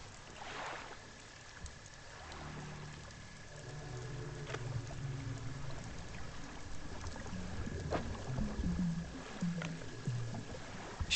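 Another boat draws near in the fishing game Dredge, with a low rumbling engine-like drone and watery wash that swell gradually, joined by an eerie high tone and occasional clanks.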